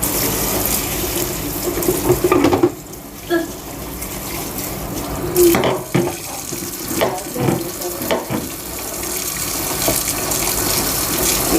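Tap water runs strongly into a sink while milkfish is washed, a loud continuous gush broken by a few splashes and pauses where the flow is interrupted by hands and fish.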